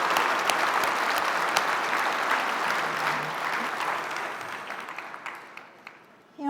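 A conference audience applauds a live band at an opening session, a dense, steady wash of clapping that gradually thins toward the end, with scattered cheers and a brief voice at the close.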